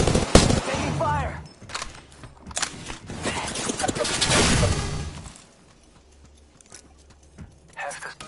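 Gunfire in the video game Apex Legends, several loud bursts of shots and rapid automatic fire over the first five seconds, then quieter sounds, with a player's voice talking over it.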